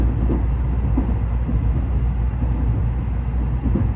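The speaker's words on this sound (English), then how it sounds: "Moving at, I think, 200 miles an hour on the train." A steady low rumble of a Shinkansen bullet train heard from inside the carriage, a constant drone of motion with faint rhythmic thumps and no talking.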